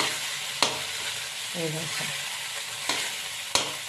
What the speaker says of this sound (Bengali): নাড়াচাড়া করে নিচ্ছি